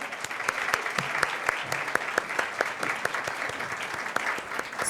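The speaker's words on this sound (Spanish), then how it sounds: "Un aplauso para ellos, por favor." Steady applause from a corporate training audience, a dense patter of claps filling the whole stretch at an even, moderate level.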